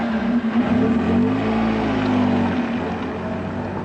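A car, the Old Top Gear test model with stiffened chassis, drives steadily with a continuous engine drone whose pitch rises and falls slightly, heard close and alone with no voices over it.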